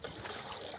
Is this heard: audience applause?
no